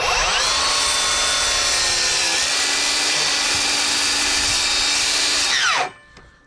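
A Milwaukee miter saw cuts steel with a loud, high, steady metallic whine that holds for about six seconds and then winds down, with no talking.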